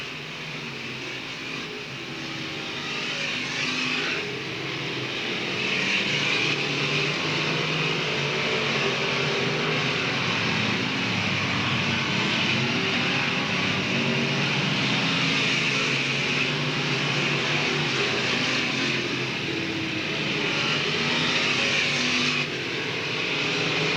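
Race cars roar around Talladega Short Track in 2007, a continuous loud engine drone that swells and eases as the pack passes.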